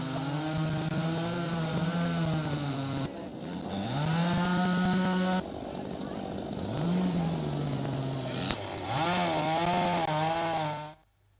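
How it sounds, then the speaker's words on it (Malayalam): A chainsaw cuts down an old banyan tree, its engine loud and close, revving up and down in pitch through several cuts before cutting out at the end. "പ്രത്യേക പൂജകൾക്ക് ശേഷമാണ് മരം മുറിച്ചത്"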